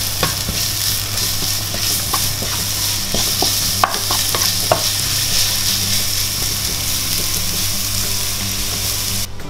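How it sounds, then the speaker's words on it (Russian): Onion and carrot fry in a pan with a steady, bright sizzle. A spoon stirs them now and then, giving scattered clicks and scrapes, close up and with no talking. "И теперь обжарим наши овощи."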